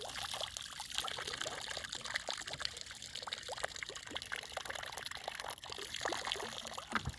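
Water trickles and pours through a shirt used as a filter outdoors, a soft, continuous splashing dribble with small irregular drips, faint and close.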